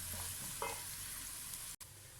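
Egg and potato pieces frying in hot oil in a pan for anda korma at home, a steady close sizzle with brief stirring scrapes and no voices.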